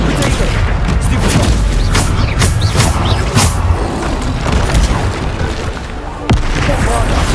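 In Hogwarts Legacy, Bombarda spell explosions go off as repeated loud booms and sharp bursts in quick succession, with a brief drop near the end before another hit. Voices are heard under the blasts.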